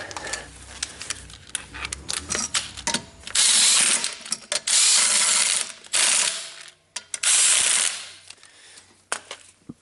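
A ratchet tightens a part onto a drift chassis in a home garage, with rapid close-up clicking bursts that run continuously for a couple of seconds at a time, separated by short pauses, with no talking.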